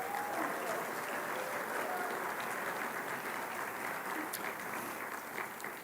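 An audience applauds steadily at a university athletics hall of fame induction ceremony, a dense continuous patter of many hands clapping that holds level and eases slightly at the end.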